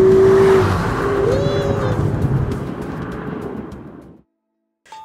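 A 2015 Alfa Romeo Giulietta 1750 TBi TCT Quadrifoglio Verde engine pulls hard, rising in pitch through a loud, close acceleration before the roar fades away and cuts off.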